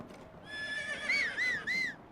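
A horse in a video game gives a loud, close neigh. A rising whinny breaks into several wavering, pulsing cries, with faint clip-clop underneath and no speech.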